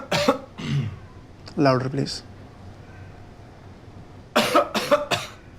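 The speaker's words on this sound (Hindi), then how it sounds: "खांसी करो।" A man coughs on request during a doctor's check-up, giving a few loud, close coughs and throat-clearing bursts, with short spoken exchanges before and after.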